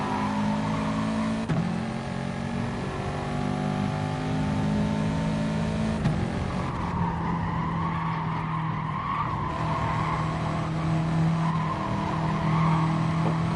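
A race car in the Gran Turismo video game slides sideways through the carousel corner, its tires squealing in a long, loud screech over a steady engine drone for the whole stretch.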